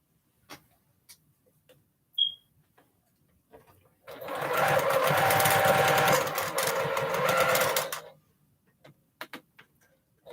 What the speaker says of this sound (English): Try to make sure I sew my seam flat. And I lock in my seam by taking a couple stitches backward